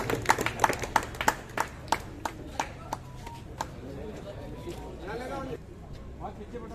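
An audience at a felicitation ceremony claps in a burst of sharp, rhythmic claps that thin out into scattered ones, heard beneath a voice speaking over a public address.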